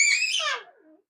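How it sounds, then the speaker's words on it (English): A young girl lets out a loud, shrill scream that starts high and piercing, then slides downward and trails off within about a second, alone and close. "I know my baby girl just screaming at the top of her lungs."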